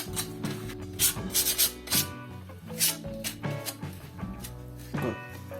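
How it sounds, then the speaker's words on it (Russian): Wooden parts for a handmade wooden box are sanded by hand in short, uneven rasping strokes with some squeaky tones, heard close and fairly quiet. "Ну, все сначала вот эти пошлифую"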